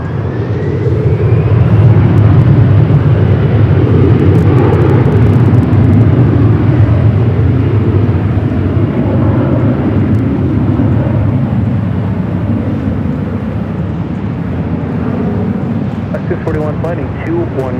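An A330neo airliner at Los Angeles LAX airport gives a loud, steady roar of jet engines spooling up for takeoff from runway 24 left. Air traffic control radio chatter runs over it throughout.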